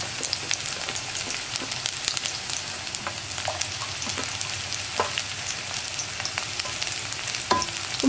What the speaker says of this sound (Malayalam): നമ്മുടെ വെളിച്ചെണ്ണ ചൂടായി വന്നിട്ടുണ്ട്. ഇതിലേക്ക് നീളത്തിൽ കട്ട് ചെയ്ത് വെച്ചിരിക്കുന്ന ഉള്ളി ചേർക്കാം.